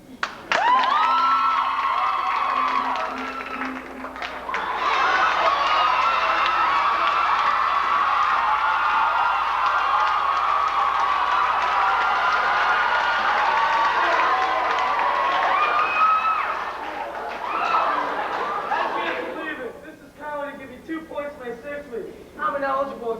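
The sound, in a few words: school audience applause and cheering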